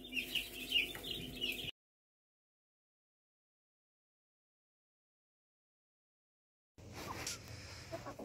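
Cobb 500 broiler chickens clucking in a close, busy flock, heard in two bursts with a long stretch of silence between them.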